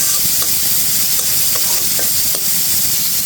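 Onions and small sea chanda fish frying in a pan with oil, a steady close sizzle and crackle broken by occasional stirring scrapes, no talking.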